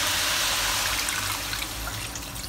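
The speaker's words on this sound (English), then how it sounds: "Now we'll add in 600 milliliters of water." Water pours into a pan of Hakka pork belly with preserved vegetables, a steady close splashing rush that tapers slightly toward the end.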